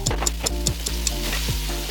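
Salmon fries in a pan with a bright, crackling sizzle close by, broken by quick regular scraping or stirring strokes and sharp spatters, with no voices.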